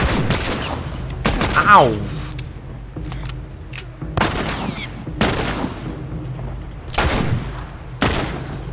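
Sniper and gunfire shots crack out in The Last of Us during a fight at a hydroelectric dam. Several sharp, loud reports come at irregular intervals, some ringing out briefly, and a man's short exclamation is heard among them.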